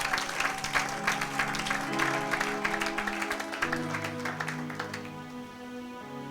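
A church congregation claps in steady rhythm under sustained music, the applause dense and moderately loud throughout.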